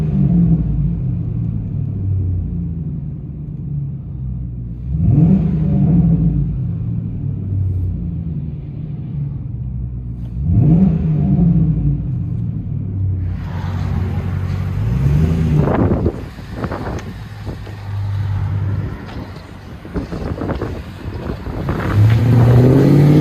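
A 2010 Ford F-250 with a 5.4L V8 and Carven R-Series exhaust revs several times, each blip a deep rising roar over a steady idle rumble, then heavier, harsher revving up close near the end.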